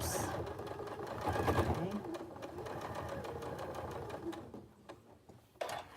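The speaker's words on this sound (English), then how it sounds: "I'm just going to continue sewing along" A sewing machine stitches a surgical-style fabric face mask along a quarter-inch seam, a rapid mechanical whirring run that slows and stops, with a brief spoken word near the end.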